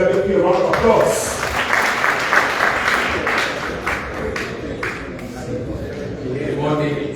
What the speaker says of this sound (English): Let's give WP a round of applause